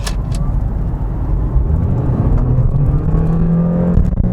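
Honda Clarity car accelerating hard with full throttle in sport mode, a loud steady engine roar rising slightly in pitch and building over about four seconds, close up with no talking.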